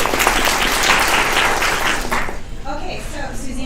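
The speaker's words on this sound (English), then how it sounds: "Let's give her a round of applause." Loud burst of audience applause at a speaking presentation, many hands clapping densely, fading out toward the end with a few scattered claps.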